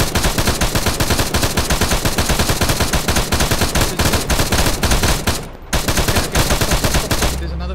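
Sustained machine gun fire in a video game, aimed at an enemy vehicle: loud, rapid, continuous bursts with one brief pause, close and dominating throughout.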